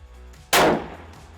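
A single sharp rifle gunshot fired through a new barrel during break-in, a loud close crack with a brief decaying tail, alone with no talk.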